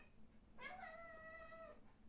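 A cat gives a single drawn-out meow lasting about a second, close and clear over a low steady background hum, with no talking.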